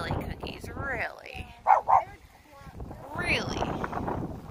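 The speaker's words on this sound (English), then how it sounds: "Shush, Cookies, you're gonna bark at those people way over there." A dog on the Oregon Coast gives two sharp, close barks in quick succession, set against wind noise and ongoing talk.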